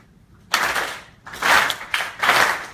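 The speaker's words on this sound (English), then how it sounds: "So I'd like to just start a very slow clap" A memorial comedy show audience in St. Petersburg gives a slow clap: three separate broad bursts of hand noise about a second apart, each swelling and fading, close and moderately loud with no talking.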